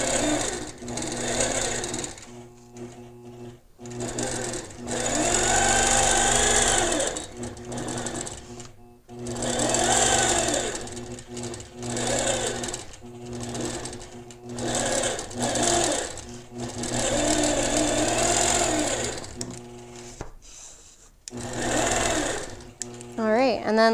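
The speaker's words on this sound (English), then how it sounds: "let's go ahead and stitch a 60 degree line off of this 75 degree" A sewing machine stitching a quilt along a ruler, running in repeated bursts of rapid mechanical whirring separated by short pauses, with a person talking between and over the runs.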